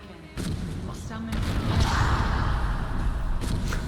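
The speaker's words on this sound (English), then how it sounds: "Love those explosions that the Atronachs cast." Spell explosions cast by Atronachs in Skyrim, a burst of booming, whooshing blasts that swell and linger through the middle of the moment, with sharper cracks near the end.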